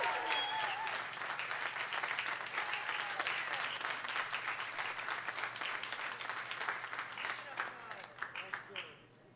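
A graduation audience at a charter school applauds the class of 2021 valedictorian, a loud sustained wave of crowd clapping with scattered voices, tapering off near the end.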